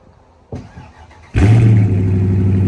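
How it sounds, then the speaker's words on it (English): A 2019 Dodge Charger R/T with a 5.7 Hemi and active exhaust, cold-started from near silence: a brief starter crank, then the engine catches with a loud roar and settles into a strong, steady high idle. "let's go ahead and get that cold start"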